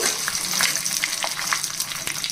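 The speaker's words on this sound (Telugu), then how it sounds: "ఇదిగోండి పల్లీలు వేగిన తర్వాత ఇదిగోండి 7-8 ఎండుమిర్చి వేసుకోవాలి" Peanuts and seven or eight dried red chillies frying in hot oil, a dense continuous crackling sizzle with small sharp pops and occasional stirring scrapes, close up and fairly loud, no voices.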